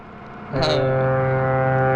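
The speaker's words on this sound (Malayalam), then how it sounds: "ഈശോയെ, ദേ കപ്പല്." A ship's horn in a film scene blasts suddenly and holds a deep, steady, sustained tone that drones on loudly after a quieter background hum.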